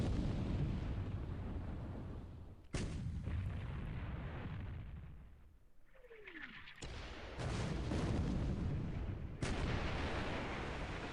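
Naval artillery fire in the War in the Pacific strategy game, a dense rumbling barrage with several sharp loud onsets and a falling whistle, heavy and continuous throughout.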